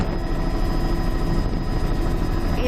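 A helicopter flies along a coastline of sea arches and waterfalls, its engine and rotor a steady, close, droning roar with no voices over it.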